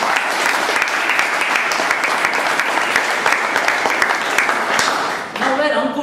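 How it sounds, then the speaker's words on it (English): Audience applause at a Toastmasters meeting, a close, lively round of clapping from a roomful of people that holds steady, then dips briefly before a voice begins speaking at the end. "let's give Uncle another applause."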